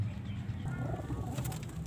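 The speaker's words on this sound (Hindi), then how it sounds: "ये जी कबूतर है जो कि आ गया इधर" Low, soft pigeon cooing repeats steadily close by over a continuous background hum, with no talking.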